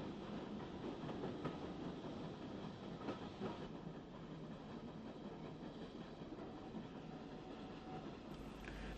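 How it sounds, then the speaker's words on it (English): Steam locomotive SG3 No. 33 draws a passenger train into Larne Town station, a continuous rumble and rattle of wheels and carriages on rails, steady and fairly close, with no talk. "Here, SG3 number 33 brings a passenger train into Larne Town in July"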